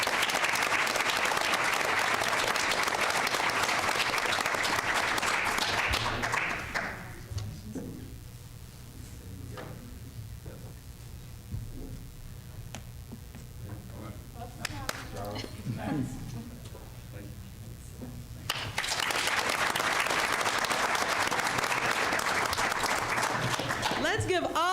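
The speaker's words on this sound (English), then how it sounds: "Let's give all of our Henry County Public School Teachers of the Year recipients a round of applause and a standing ovation." An audience at a Henry County Public Schools board meeting applauds teachers of the year, with loud sustained clapping at the start, a quieter stretch with people talking, and a second strong round of clapping at the end.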